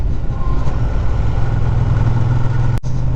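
A 2017 Ducati Diavel motorcycle engine runs steadily while riding, a continuous low rumble close by with a brief dropout near the end.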